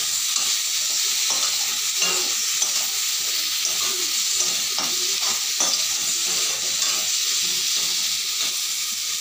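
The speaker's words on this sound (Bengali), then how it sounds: "এই যে চিনিটা দেওয়ার পরে এইভাবে করে কিছু সময় নাড়তে থাকতে হবে" Sugar caramel for an olive chutney stirred in a pan, a loud, constant bubbling sizzle and hiss with frequent light scrapes and taps of the spoon, close up and without any talking.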